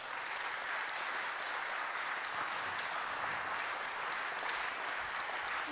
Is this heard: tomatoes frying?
no